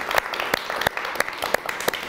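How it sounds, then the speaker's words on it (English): Audience applause for the cast of a play at a climate change talk event, with a few sharp, evenly spaced claps standing out over a softer, steady wash of clapping. "a quick round of applause for the cast"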